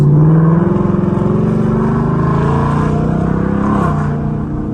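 A Ford Mustang GT with a 10-speed automatic accelerating hard, its engine note loud and close, rising in a strong revving drone and then easing off toward the end.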